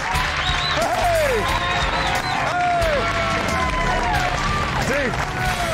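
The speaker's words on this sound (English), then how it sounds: "Everybody was clapping and cheering and having a great time." A restaurant crowd claps and cheers in a steady, loud wash, with excited voices and whoops rising over the clapping as a guest arrives on a bike.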